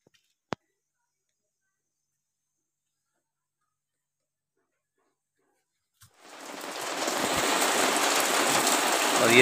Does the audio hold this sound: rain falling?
yes